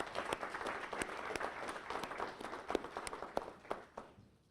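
Steady applause from an audience at an outdoor press conference for sponsors, with many hands clapping continuously, moderately loud and fading slightly toward the end.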